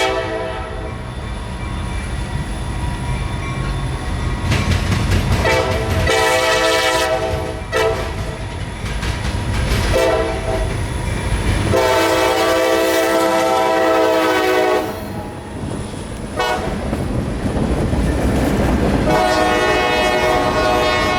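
Freight train rolling past on the A line toward Tampa, loud and close, with a long steady rumble and wheel clatter under repeated long blasts of the horn.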